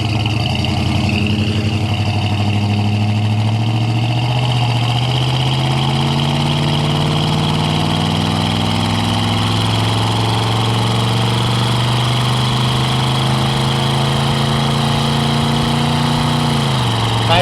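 A 1973 Ford Gran Torino Sport V8 pulls hard on a road test drive, its loud continuous engine roar rising steadily in pitch as it accelerates, heard from inside the car.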